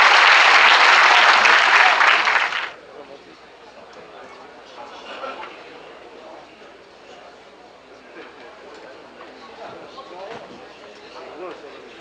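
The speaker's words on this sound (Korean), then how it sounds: "박수로 맞아주시기 바랍니다." An audience at an association's general assembly in a hall bursts into loud, dense applause that stops abruptly after a couple of seconds, leaving quiet room tone and murmuring.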